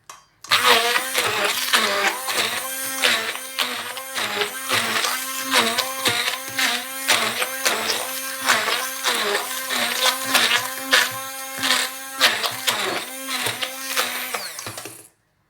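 A grinder running on plantain, a loud whirring and rattling motor with a steady pulsing rhythm that carries on for about fifteen seconds before stopping abruptly, with no speech over it.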